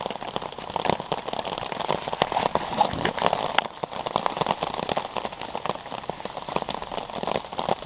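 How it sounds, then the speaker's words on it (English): Rain patters steadily on the ground and leaves along the Appalachian Trail in October, a dense crackling wash with occasional louder drops, no voices. "Rain all day long."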